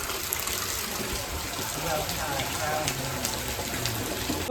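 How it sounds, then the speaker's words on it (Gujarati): Steady rain falls over a village in Botad, a continuous broadband hiss of drops at moderate distance that holds evenly throughout, with no clear voices. "આ જો ત્રીજો રાઉન્ડ ચાલુ થઈ ગયો વરસાદનો"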